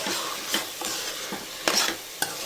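Mutton curry with chili powder being stirred in a pan: continuous sizzle with repeated spatula scrapes and clinks against the metal, close and fairly loud, no speech.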